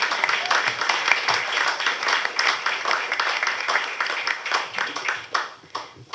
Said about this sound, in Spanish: Ay, aplaudan.